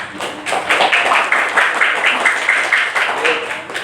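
A fifth-grade class applauds in the classroom, a close, brisk patter of many small hands clapping together for nearly four seconds, fairly loud with a slight uneven rhythm.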